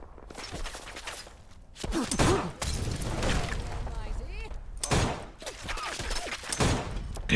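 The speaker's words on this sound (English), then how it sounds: "what the hell were you shooting me with? It looked like a minigun." Minigun fire rattles in the post-apocalyptic shooter Fallout London, with dense bursts of rapid shots broken by short pauses, loud and close, mixed with clattering and impact noises.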